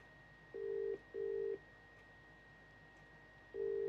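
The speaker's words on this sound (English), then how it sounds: "At least it's ringing." Outgoing phone call to a computer-repair customer, heard as a steady low ringback tone in a double-burst cadence: two short rings, a longer pause, then another ring begins. It is clear, continuous and plays alone with no talking.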